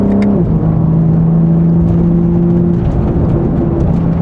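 BMW G80 M3 fitted with a Valvetronic Designs exhaust on a cool-down lap, giving a loud, steady engine drone with a shift in pitch early on, then an even hum throughout with no voices.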